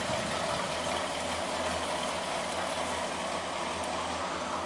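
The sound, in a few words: 1978 Mercury Marquis engine running rough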